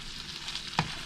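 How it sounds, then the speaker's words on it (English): Nasi goreng balado frying in a pan, with a steady close sizzle and one brief scrape or knock of stirring near the end. "I'm going to mix it with these ingredients, and then I will just simply periodically stir it around"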